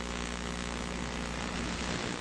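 Steady, loud drone of a damaged airliner in flight, a dense cabin-and-engine roar holding constant throughout without speech.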